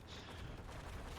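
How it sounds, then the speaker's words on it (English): Quick volley of cannon fire in a strategy video game battle, dense overlapping booms and shots at low level, with no voices. "Got some close range NAM cannons shooting directly at these"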